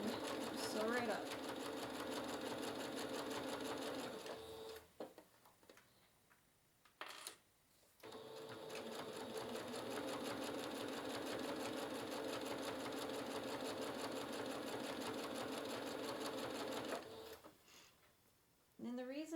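A sewing machine stitches a cross-stitch project bag in a steady, close, whirring run with a brief pause in the middle. Someone talks quietly over it at times.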